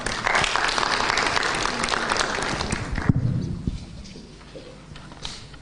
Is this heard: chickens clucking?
no